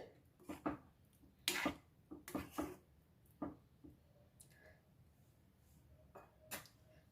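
A spoon stirs prawn thokku in a pan on a stove that has been switched off, giving a series of scraping clinks and soft knocks at an uneven pace, fairly close and quiet.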